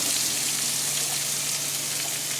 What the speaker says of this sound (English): pork loin, boneless pork loin, diced it up on a nice hot pan.